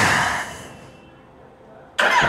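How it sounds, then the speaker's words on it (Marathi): A Kawasaki Z800 motorcycle makes a cold start: a loud burst of engine noise fades away, then a sharp, loud roar returns near the end. "हा काहीच कोल्ड स्टार्ट करूया आता. दिवसाचा सेकंड कोल्ड स्टार्ट."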